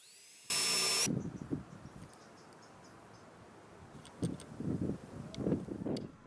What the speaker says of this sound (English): I always pre-drill with a small drill bit, then gradually increase the size, preventing the cracking.